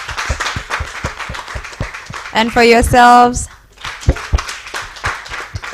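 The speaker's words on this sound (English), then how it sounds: "one more round of applause for our panelists" Steady applause from an audience fills the clip, with a person speaking briefly partway through and the clapping continuing underneath and after.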